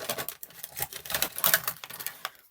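A rotary cutter slices through quilting fabric along a ruler for bunting pieces, giving a series of quick, close scratchy cutting strokes and soft taps in an irregular rhythm, with no talking.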